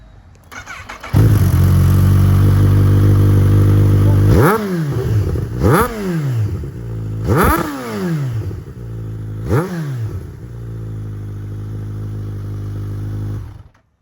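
A Kawasaki ZH2 motorcycle fitted with a Scorpion Serket slip-on exhaust, baffle removed, starts and idles loudly, then blips its throttle in four sharp revs that rise and fall before settling back to idle and cutting off.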